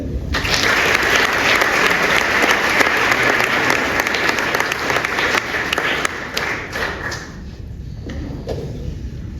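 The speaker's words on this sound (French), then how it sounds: "On peut applaudir Yann Moix." Audience at a French literary prize ceremony applauds the writer Yann Moix, a full, sustained burst of clapping that holds strongly for several seconds, then fades and thins into sparse claps.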